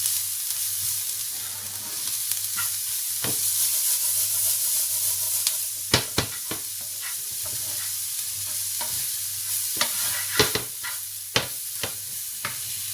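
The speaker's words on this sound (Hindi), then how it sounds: "अब इनको अच्छी तरह मिक्स करेंगे" Vegetable filling for spring rolls being stirred in a pan, with steady frying sizzle and hiss underneath and sharp scraping, clacking spoon strokes that come in irregular bursts, close and clear with no talking.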